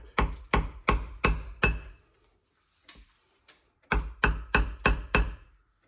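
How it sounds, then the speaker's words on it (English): A hammer strikes a 2x4 to drive a front brake seal into a 1986 Buick Grand National, two bursts of five sharp, evenly spaced knocks separated by a quiet gap with a few faint taps. "just a good old 2x4 and a hammer will do the trick"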